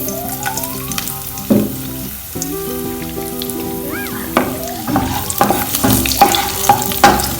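Cashew nuts frying in vegetable oil, with a steady sizzle and occasional stirring clinks under prominent background music for about seven seconds.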